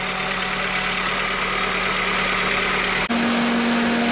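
An Audi 80 engine with a newly replaced timing belt kit and water pump idles steadily with an even, constant hum and no stumbling. A brief dip near the end is followed by a low, steady tone.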